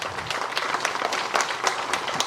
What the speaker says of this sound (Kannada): ಫಲಾನುಭವಿಗಳು ಎಲ್ಲ ಒಂದು ಜೋರಾದ ಚಪ್ಪಾಳೆ ಹಾಕ್ಬೇಕಂತ ನಾನು ಬೇಡಿಕೊಳ್ತೀನಿ